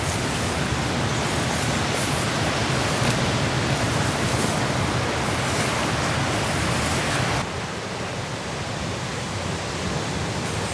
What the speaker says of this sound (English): You can just listen to the waves.